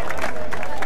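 A brief burst of loud crowd applause and cheering at a 2017 Liga Rapquicia freestyle rap battle qualifier, dense and close, with shouting voices mixed in.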